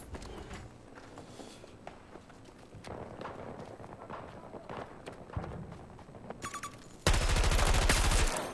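Gunfire in the shooter Battlefield 2042, scattered shots and bursts amid footsteps and battlefield clatter, ending in a loud sustained burst of rapid automatic fire.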